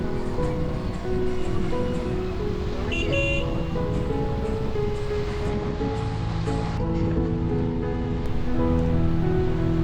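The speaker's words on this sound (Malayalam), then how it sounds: "നല്ല മഴയാണ് ഗായ്സ്." Heavy rain pours steadily during a bike ride in Munnar, Kerala, a dense continuous wash of noise with passing traffic and a brief horn-like tone in the mix.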